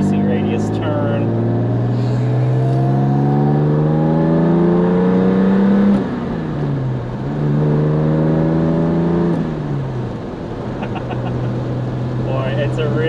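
A Jaguar E-Type coupe engine pulls hard along winding backroads, a loud droning note rising through the gears with a dip and a quick re-rev midway, heard close from inside the car.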